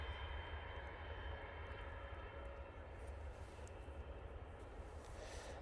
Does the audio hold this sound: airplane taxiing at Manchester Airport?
yes